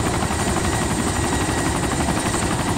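An Mi-17 helicopter in a video game roars with a loud, steady rotor and engine drone that fills the whole stretch without a break, heard from inside the cabin, with no voices on top.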